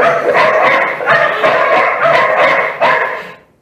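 A dog barks sharply several times in quick bursts, close and loud, with brief pauses between yaps before it fades.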